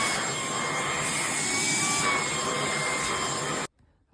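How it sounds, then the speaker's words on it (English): A household vacuum cleaner runs steadily and loudly at close range for several seconds, a continuous whining roar from a hoover cleaning lint around an overlocker sewing machine, then cuts off abruptly near the end. "I'm just going to use my hoover to get the bits around it off"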